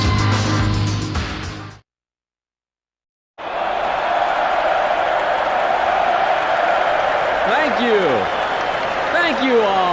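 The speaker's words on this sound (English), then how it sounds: "Thank you for your applause." A crowd applauds in a Tekken 4 PS2 story cutscene: after a brief silence, a broad wash of clapping and crowd noise rises and holds, with a few voice-like calls on top.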